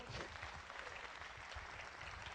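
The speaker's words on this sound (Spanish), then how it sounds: "Dele palmas al Señor." A church congregation claps during a sermon, a dense, continuous patter of hands that is fairly quiet and steady for the whole short stretch, with no voices over it.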